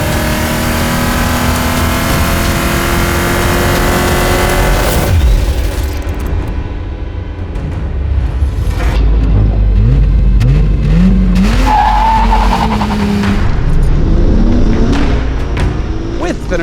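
Three 1990s performance cars, a Mercedes W124 500E, an Audi RS2 and a BMW M5 Touring with its big S38 engine, accelerate hard in a drag race, engines roaring loudly with rising pitch and gear shifts under a narrator's voice.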